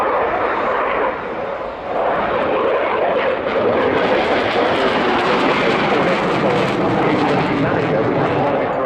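A military jet at the RIAT 2018 airshow roars through a high-speed pass at around 400 knots, its loud, broad engine rush swelling and holding steady throughout.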